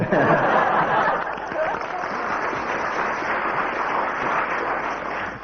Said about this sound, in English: First applause from the audience